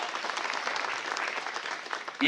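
An audience applauds at a municipal council president's inauguration ceremony in Jat: steady, dense clapping that runs for about two seconds and swells louder at the very end.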